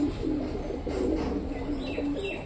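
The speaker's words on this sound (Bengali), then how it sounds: "আমাদের চুচু ওই যে ঘরের ভেতরে ডাকাডাকি করছে" A pet pigeon calls inside its loft, a low burbling coo repeating steadily through the short stretch amid faint chirps and soft background noise.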